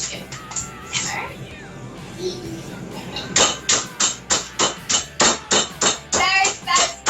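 A hammer pounds a raw chicken sealed in a plastic bag on a kitchen counter. A quiet voice talks first, then about a dozen sharp, rapid, evenly spaced thuds follow, close and loud.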